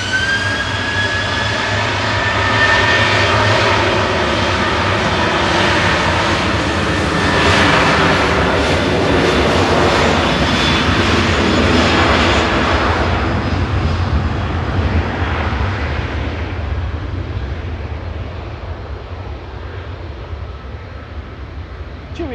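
A jet airliner departing Manchester Airport for Verona roars steadily, rising to a loud, whining peak midway and then gradually fading into the distance as it climbs away.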